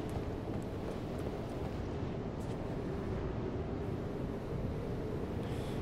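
Wind blows steadily in the video game Dark Souls 3, a dense, continuous rushing roar that stays even and fairly loud throughout, with no talking.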